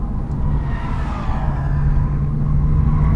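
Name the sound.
Porsche 997 Turbo's Pilot Super Sport tires squealing on track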